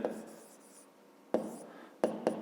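A pen writes out a solution to a fifth-grade geometry exercise, giving quiet, close scratching broken by a few sharper taps and strokes.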